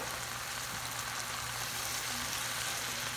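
Sweet potato leaves sauté in a hot pan, a steady, even frying sizzle with a fine crackling hiss that runs unbroken throughout.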